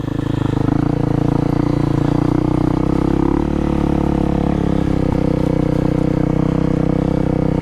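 A Honda CRF250L dirt bike engine runs loudly and steadily up close while riding by a creek, a continuous buzzing drone with slight shifts in pitch and no gaps.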